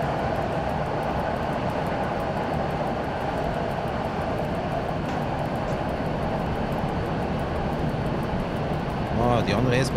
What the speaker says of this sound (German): Ah, die andere S-Bahn.